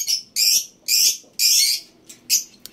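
African lovebirds in an aviary give loud, shrill chattering calls in several bursts with short gaps, close to the microphone and with no voices over them.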